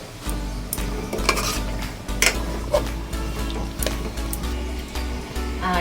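Chicken curry with garam masala is stirred in a pot, a spoon scraping and clinking against the metal in irregular strokes over a soft background sizzle.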